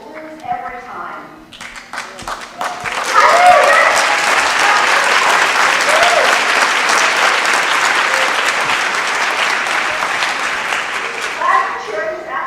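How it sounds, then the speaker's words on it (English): Town hall audience in New Jersey's 3rd Congressional District bursting into loud, sustained applause and cheering, a dense wash of clapping with whoops that swells after a few seconds and holds steady, with voices mixed in. "Last cheering is absolutely okay."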